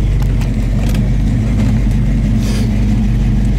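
The engine of a 1971 Chevy Nova is held at about 3,500 RPM, making a loud, steady, close mechanical roar that drones on without a break.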